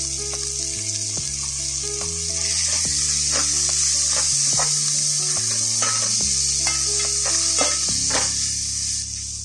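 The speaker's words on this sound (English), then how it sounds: "herbs like mint, coriander, and give this a quick stir." Mint and coriander fry with spices in a pan for Guntur chicken biryani, a loud, close sizzle with scraping stirs and clinks scattered through it, and no speech.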